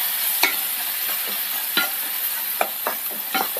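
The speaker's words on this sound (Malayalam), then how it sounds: "തീ കുറച്ച് വെച്ച് വഴറ്റിയെടുക്കണം." Tomatoes sauté in a pan over a low flame, a steady soft sizzle broken by several sharp scrapes of a spatula stirring, close and alone with no talk.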